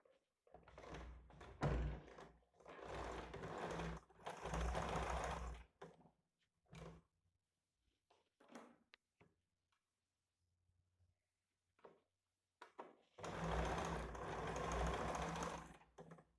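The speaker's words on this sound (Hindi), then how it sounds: "यहाँ पे सिंगल फुट लगा लेना है, यहाँ पे सिलाई लगा लेना है।" A sewing machine with a single foot stitches fabric beside thin dori piping. It runs in steady, close bursts of whirring, pausing in the middle with a few soft knocks before a final long run.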